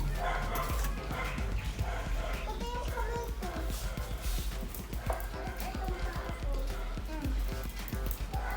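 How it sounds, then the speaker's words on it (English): Several dogs bark and yip in rapid, overlapping bursts nearby at a home in Batangas, Philippines, loud and excited, with people talking and exclaiming over them. "All the dogs are here."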